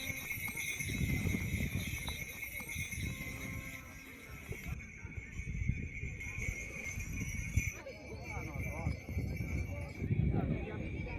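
Horses at a plateau horsemanship exhibition after a ceremony with singing and dancing, hoofbeats and animal sounds close by amid steady background noise and bursts of activity, with faint voices mixed in.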